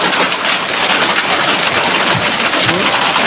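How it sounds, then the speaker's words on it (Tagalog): Heavy rain pours steadily during a storm, a loud, dense broadband hiss that stays constant throughout with no pauses or talk. "Ang lakas talaga ng ulan."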